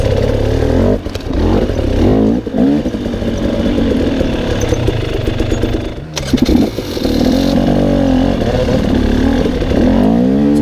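A dirt bike engine roars loud and close while riding through a wooded ravine on motorcycle trails, revving and bogging with throttle changes and brief dips as the bike clambers over rough ground.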